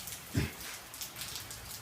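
Faint, steady rain falls outside a garage, a soft continuous patter with one slightly louder drip or thud near the start.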